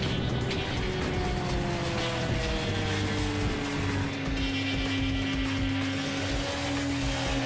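Yamaha R1 600cc motorcycle engine revving steadily with rising and falling pitch, loud and continuous throughout, with no voices.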